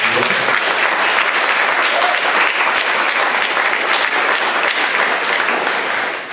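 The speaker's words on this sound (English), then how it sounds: "Give him a round of applause" Loud, sustained applause from the audience at a Seattle livable streets mayoral candidate forum, a dense steady roar of many hands clapping that fades slightly at the end.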